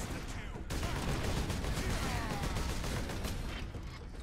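Dense gunfire from the video game Warhammer 40K Space Marine, a continuous loud clatter of shots and impacts that starts abruptly and fills the whole stretch.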